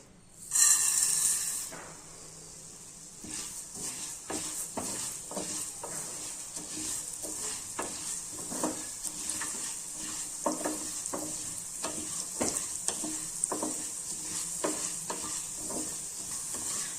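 Coriander seeds frying in a little oil in a kadai, a steady soft sizzle with a run of small crackles and light scraping taps across the whole stretch after a brief louder burst at the start; no one speaks.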